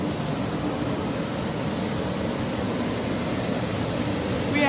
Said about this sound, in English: We have fans blowing, and the carpet is pulled up to dry.